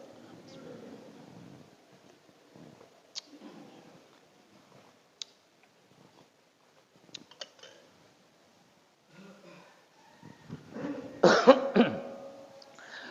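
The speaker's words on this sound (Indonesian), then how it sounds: "Jadi kalau ada yang batuk, saya pun batuk juga." Several coughs and throat-clearing sounds come in sharp bursts between quiet stretches of a religious talk, with a cluster of louder coughs near the end and some talk mixed in.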